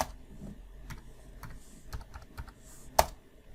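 Fingers type on a computer keyboard in a quiet room, with irregular bursts of soft clicks and a sharper key strike near the end, close by and alone.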